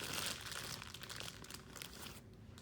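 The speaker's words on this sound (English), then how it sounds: "if you don't like crinkling" Packaging from a candle haul crinkles and crunches close up in a steady, busy stream of rustling, with no speech.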